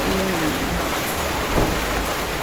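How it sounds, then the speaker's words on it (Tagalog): Steady rain falls on a morning outside a house, a dense continuous hiss close by with no talking. "Umuulan."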